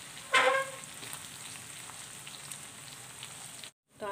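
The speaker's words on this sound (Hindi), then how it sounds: "तो अब हम इसमें ये मसाला जो है ना ये ऐड कर देते हैं और इनको बहुत अच्छे से मिला लेंगे।" Sliced okra frying in a pan with masala spices, giving a steady soft sizzle with faint stirring scrapes and one brief sharper clink near the start, all close by and without talking.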